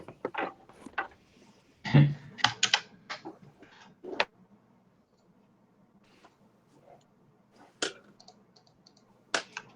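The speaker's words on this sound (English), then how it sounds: "But I found my typing video." Bursts of keyboard typing, close and crisp, with quick clusters of key clicks separated by quiet pauses.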